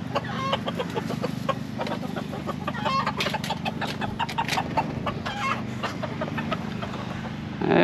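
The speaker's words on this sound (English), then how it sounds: "Let's give these to the chickens while we're at it." A backyard flock of chickens clucks and squawks busily while being fed. The overlapping calls are close and continuous, with a few louder cackles over a low background hum.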